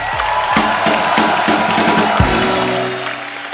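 Studio audience at a comedy talk show applauding, a short burst of clapping and cheering under a swelling musical sting, fading out at the end.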